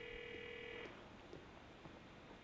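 A mobile phone rings in the Grand Theft Auto IV video game, a quiet electronic ring tone that sounds briefly at the start and then cuts off, leaving low background hum.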